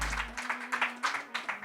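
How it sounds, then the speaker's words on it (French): An audience at a French televised music talent-show final claps for a performer in a short, steady burst of applause. "On va l'applaudir bien fort là s'il vous plaît"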